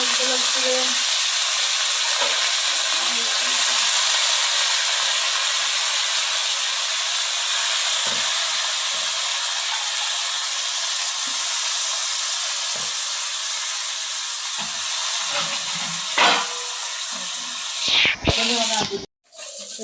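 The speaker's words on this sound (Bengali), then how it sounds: "এই যে আলু ভাজি হয়ে গেছে এদিকে আমি মাছ এই যে ভাজতে দিয়েছি দেখেন" Potatoes fry in a pan with a steady loud hiss and sizzle that holds throughout, a few clinks and small knocks near the end.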